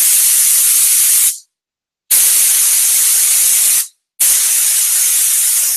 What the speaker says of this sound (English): when you spray, it comes down to 26, 27 pounds